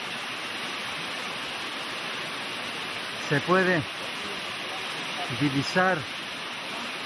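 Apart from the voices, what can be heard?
waterfall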